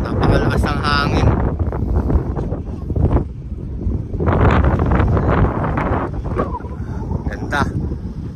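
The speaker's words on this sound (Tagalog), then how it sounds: "Napakalakas ang hangin." Strong wind at Pantabangan Lake in Nueva Ecija buffets the microphone in loud, continuous gusts, with people talking intermittently beneath the roar.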